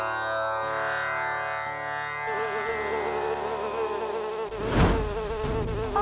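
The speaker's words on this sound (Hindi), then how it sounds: "ये विशाली मक्खी" A giant fly buzzes in a dramatic mythological TV serial scene, its drone rising under swelling background music and growing loudest near the end.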